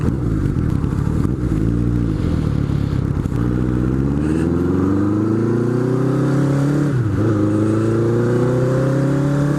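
A Honda Nighthawk motorcycle engine revving close by on a mild October evening, loud throaty rumble climbing and dropping through several throttle blips, then rising steadily in pitch before a brief dip and recovery.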